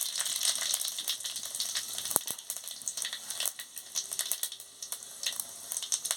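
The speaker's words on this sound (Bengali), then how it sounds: "তেলটা গরম হয়ে গেছে, আমি তেজপাতা, শুকনো লঙ্কা আর 5 ফোড়ন দিয়ে দিচ্ছি" Bay leaf, dry red chilli and Bengali five-spice (panch phoron) crackle and sizzle in hot oil in a pan while cooking jhinge posto, a steady close frying hiss with sharp pops and a brief clink, no talk.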